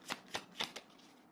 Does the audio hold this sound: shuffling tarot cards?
yes